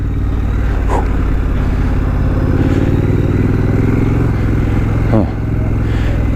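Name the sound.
2019 Triumph Scrambler motorcycle riding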